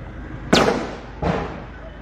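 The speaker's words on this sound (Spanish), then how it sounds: "Estamos desde el lugar de los hechos donde se han escuchado disparos específicamente. Se pueden seguir escuchando." Two loud sharp gunshots at a scene of an armed clash with Sandinista police in Estelí, Nicaragua, about 0.7 seconds apart, each cracking out and echoing briefly against a quiet outdoor background.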